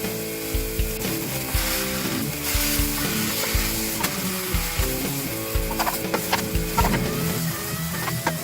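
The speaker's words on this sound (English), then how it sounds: "Right, so the Blackstone is hot. Now it's time to start frying." Smash burgers fry on a hot Blackstone griddle with a steady, loud sizzle, broken by repeated metallic scraping and tapping of a spatula in an uneven rhythm.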